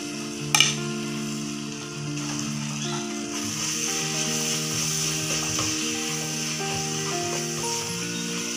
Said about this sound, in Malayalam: പൊടിയുടെ പച്ചമണം മാറുന്നവരെ ഇളക്കി കൊടുക്കണം.